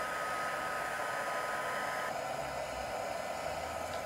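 A heat tool blows steadily on embossing powder and texture paste on a steampunk canvas, a constant close, airy whirring hiss for the whole stretch with no talk over it.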